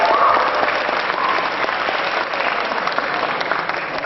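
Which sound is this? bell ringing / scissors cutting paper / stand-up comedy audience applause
stand-up comedy audience applause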